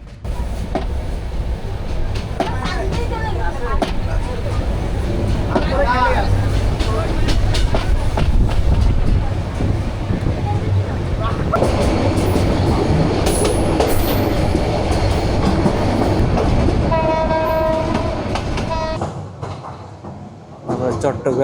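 Train from Cox's Bazar rolling into Chittagong railway station, heavy continuous rumble with clattering wheels and squealing rails, heard from inside the carriage with people talking, the roar easing toward the end.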